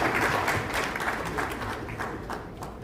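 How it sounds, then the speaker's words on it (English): A crowd at the Presidential Pitch Season 5 grand finale gives a burst of applause, many hands clapping in a loud, dense wash that eases somewhat over a few seconds. "A round of applause for Wilson Lapo."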